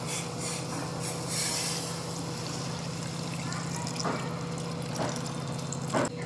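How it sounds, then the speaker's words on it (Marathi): Heated water is poured into a rustic-style spicy drumstick curry, giving a steady, soft rushing pour under a faint hum, with a couple of small clinks near the end. "तर आता या भाजीमध्ये आपण ते गरम केलेलं पाणी टाकूया."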